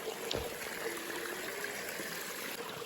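A mountain stream near Zakopane runs around stones as someone wades in, giving a steady, close rushing and trickling flow with no pauses.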